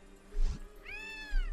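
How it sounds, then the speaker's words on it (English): A cat meows in the video game Gravity Rush Remastered, one clear rising then falling meow after a short low thump, close and alone. "Meow."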